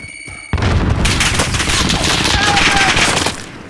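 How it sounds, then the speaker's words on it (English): Grenade blast followed by sustained heavy gunfire in Call of Duty Modern Warfare / Warzone, loud and dense after a brief quiet opening, with rapid rattling bursts continuing for several seconds. "Throwing grenade!"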